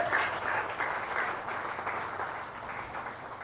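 A crowd claps in a short burst of applause that starts strong and slowly thins out, heard at a moderate distance.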